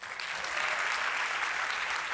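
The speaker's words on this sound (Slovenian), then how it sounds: "Spet ploskamo." Steady, dense applause from an audience at a POPRI 2022 award ceremony, a continuous wash of clapping filling the hall with no pauses or voices standing out.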